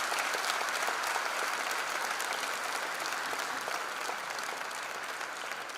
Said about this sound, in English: will you please give a loud applause for your students